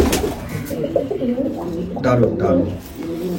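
A very small pigeon coos softly and steadily beneath someone talking close by, its low murmuring calls running through the whole stretch.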